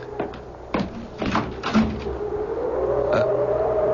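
A door opens in a radio drama sound effect, with a short thunk and latch rattle followed by a creaking swing, heard close and alone over a low background hum.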